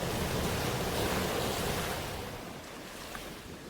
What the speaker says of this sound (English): We are lulled into sleep with the pounding of the waves.